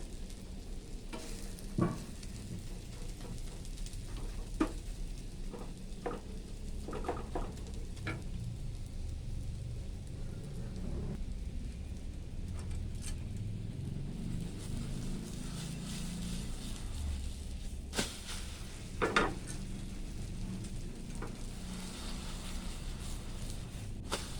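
An egg omelette with cha-om (acacia shoots) frying in a pan gives a steady, close sizzle and crackle throughout, with occasional sharp ticks and spatula knocks and no talk.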